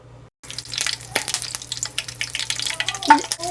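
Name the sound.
dried red chillies and curry leaves frying in oil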